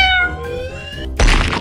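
A cartoon cat meows in a children's animal-painting cartoon: a drawn-out, wavering, gliding meow that fills most of the clip, then a sudden burst of broad noise at the end.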